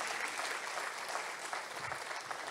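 Steady applause from a church congregation during a sermon, dense continuous clapping throughout with no pauses, moderately loud and filling the space.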